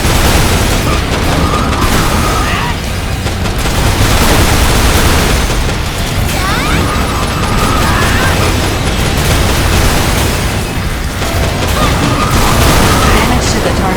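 Gunfire and explosions in the mecha video game Daemon X Machina, loud continuous battle noise with repeated booms and bursts rolling over a dense background, with voices talking over the combat.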